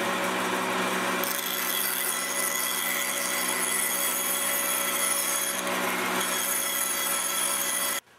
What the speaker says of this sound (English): Now the pieces are going to be sawn apart at the joint between the satinwood and the ebony.